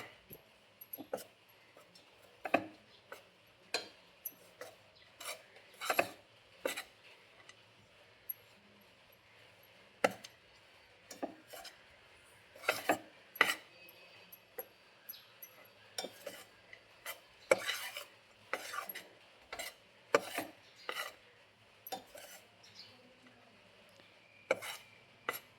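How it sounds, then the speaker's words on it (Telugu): Peanut powder being stirred and roasted in ghee over a low flame for ragi laddu, heard as quiet, irregular scraping and light metallic clinks of a spoon against the pan, with short strokes repeating throughout. "పల్లీల పౌడర్ని నెయ్యిలో వేయించుకుంటే మంచి టేస్టీగా ఉంటుంది."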